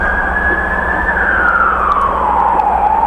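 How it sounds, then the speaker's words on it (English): A loud wailing siren sweeps slowly downward in pitch, continuous and close, over a steady low rumble. "That siren is our world."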